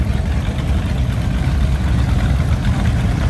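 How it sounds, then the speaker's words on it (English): Several V8-powered motorcycles idle nearby at a biker weekend in DeLand, Florida, a loud, continuous low rumble with no pauses or talking. "We've got about 10 bikes here with V8s in them."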